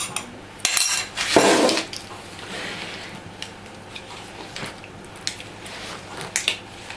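Genoise sponge cake batter is mixed in a bowl with utensils, giving a couple of loud clinks and scrapes against the bowl followed by softer, intermittent stirring and tapping.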